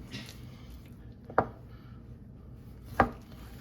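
A knife cuts through a pork loin on a board, two separate firm chopping thuds over quiet room noise, no talking.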